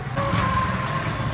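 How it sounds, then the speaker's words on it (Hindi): A motorcycle engine arrives nearby with a steady, buzzing hum that stays close and even over a brief moment. "तो अब मेहदी भाई आ रहे हैं बाइक लेके, अभी चलते हैं वापस घर।"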